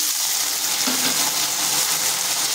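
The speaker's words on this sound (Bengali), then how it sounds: "কচুগুলোকে একটু ভেজে নেব।" Pieces of taro (kochu) and potatoes fry in a pan with a steady, close sizzle, a constant loud hiss with a brief low clink partway through.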